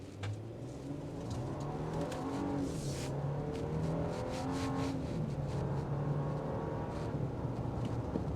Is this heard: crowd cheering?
no